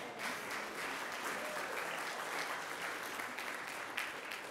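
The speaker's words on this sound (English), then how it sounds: "They're all cheering him." A crowd cheers and claps steadily as a man walks out of a hospital rehab, heard faintly as if played back through a speaker, sustained and unbroken.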